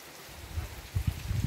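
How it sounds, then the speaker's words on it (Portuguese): Summer rain falling outdoors, a steady soft patter with a few louder gusts of drops toward the end, no voices over it. "Linda, linda a chuva."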